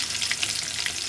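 Green chilli, bay leaf and cumin seeds fry in hot oil for a vegetable curry without onion or garlic, giving a steady, close crackling sizzle with small pops and no talking.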